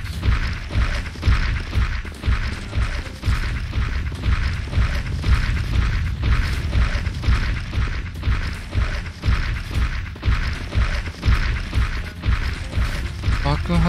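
Explosions and combat in the game Heaven Dust 2, a loud, dense, continuous rumble broken by repeated heavy booms and impacts.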